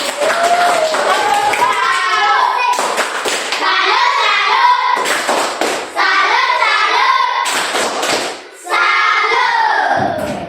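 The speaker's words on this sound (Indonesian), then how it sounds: "Tepuk tangan" Schoolchildren in an elementary classroom clap together in rhythmic bursts, several short rounds of patterned hand clapping separated by brief pauses, with children's voices chanting along.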